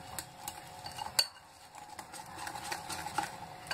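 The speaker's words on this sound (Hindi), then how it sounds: "इसको हम अच्छे से मिक्स कर लेंगे।" A spoon stirs eggless sponge cake batter in a bowl, making faint, repeated scraping clinks against the sides in an uneven rhythm, with no talking.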